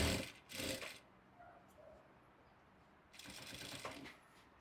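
Scissors cutting folded cloth for tailoring at a tailor's table, giving short crisp bursts of snipping near the start and a longer run of cuts later, close by with quiet pauses between.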